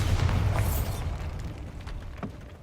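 A Bombarda spell explosion in Hogwarts Legacy, a heavy booming blast with a deep rumble that dies away over a couple of seconds, followed by a faint later thud.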